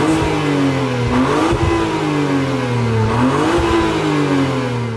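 A BMW 335i with an aftermarket exhaust revs twice from idle, a deep steady burble swelling into two rising, falling throttle blips, loud and close, with no voices.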